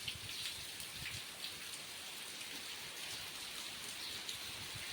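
Heavy rain falls on a village with cows kept at a Gir cow shelter, giving a steady, fairly faint hiss of drops and patter that continues evenly throughout with no voices.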